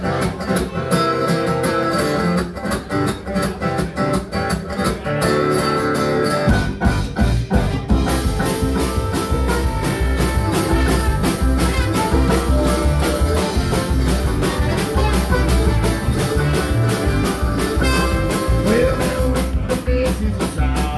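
A live band plays an old western swing tune in a record shop, with a full, steady ensemble sound that grows denser after a sparse opening.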